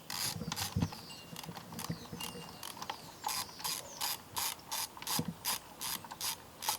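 A ratchet clicks steadily while loosening the screws on the spark plug cover of a 2002 Honda Civic Si EP3, close and fairly quiet, in quick bursts of short rhythmic strokes with a couple of metallic knocks.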